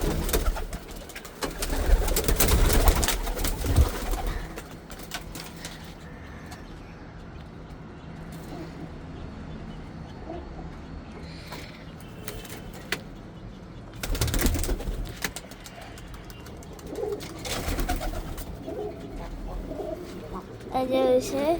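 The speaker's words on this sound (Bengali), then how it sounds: "এটা হোয়াইট পিজন, এটা হোয়াইট পিজন" White pigeons coo softly at a farm loft, low murmuring calls under background noise and louder bursts of handling and movement, with occasional wing flaps and a person talking nearby.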